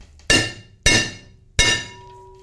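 Three sharp metallic hammer taps on a punch set into an aluminum pottery wheel head, each a bright ringing strike with a short decay, spaced about half a second apart, close and clear with no talk.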